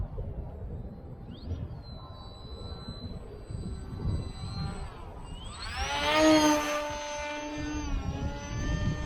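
An FT Explorer scratch-built RC plane's electric motor at half throttle, a faint, steady whine under outdoor wind noise that rises and bends in pitch as the plane passes closer near the end.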